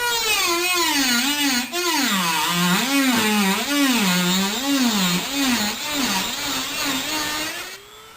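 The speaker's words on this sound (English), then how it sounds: "So we do our first cut with our rotary tool." A rotary tool makes its first cut into a PC case panel, a loud, close, continuous high-pitched whine whose pitch wavers rhythmically as the bit bites into the metal, then eases off at the end.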